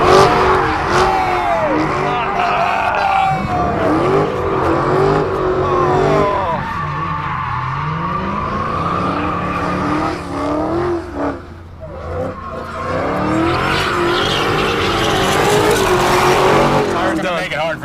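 A Dodge Hellcat and a Viper shred their tires, engines roaring loudly with long rising and falling revs, tire squeal and skidding through most of the stretch, with voices heard over the noise.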